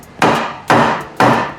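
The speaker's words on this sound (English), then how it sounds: "So I just hit it with the hammer here." Three sharp hammer blows strike a part on a cheap, worn-out Porsche being stripped in a home garage, evenly spaced about half a second apart, loud and close, each followed by a short ringing decay.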